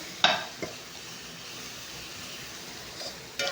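Grated coconut is stirred and spread through melted jaggery in a pan, giving a low steady sizzle with a few sharp clinks of a utensil against the pan.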